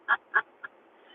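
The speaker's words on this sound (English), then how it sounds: "We got some ducks here." Ducks quack at a lake, three short calls in quick succession, the first two loud and close, the last fainter, then quiet.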